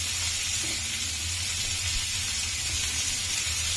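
Carrot and curry leaves sizzle steadily in a hot pan while being stirred for rava upma, a loud, continuous frying hiss with faint scraping underneath.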